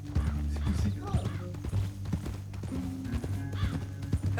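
Horse hooves clip-clop in the Red Dead Redemption 2 video game, a steady close trotting rhythm under game music and voices, with a brief whinny partway through.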